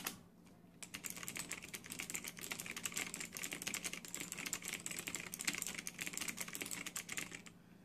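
Typing on an Azio MKG mechanical keyboard with Kailh Blue switches gives a steady, close run of quick clicky keystrokes with no talking, slightly muted in tone.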